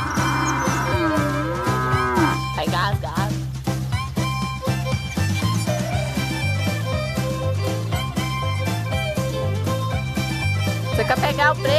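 On a farm where a herd of cattle is being tended, a cow gives a long, drawn-out moo near the start over a dense, continuous background of other sound.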